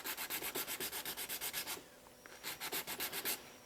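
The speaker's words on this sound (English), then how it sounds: "it'll be ready to sand in about 10 seconds here" A wooden snake lure, filled with sawdust and UV resin, being hand-sanded in quick rhythmic back-and-forth strokes, a run of rasping rubs, a short pause, then another steady burst, close and fairly quiet with no talking.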